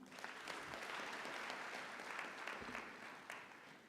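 Steady applause from the audience at a University of Nairobi graduation ceremony in Taifa Hall, applauding the Chancellor, a dense, continuous clapping that holds at a constant level throughout.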